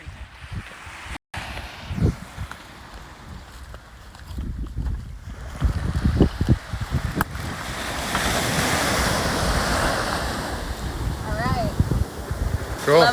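Ocean waves roll onto a Maui beach with surfers out on the water, a broad wash of surf that builds and grows louder, mixed with gusting wind on the microphone and people talking nearby.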